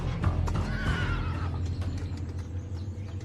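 A thoroughbred horse on a ranch lets out one loud, shaky whinny that fades out, with low hoof and stable noise underneath.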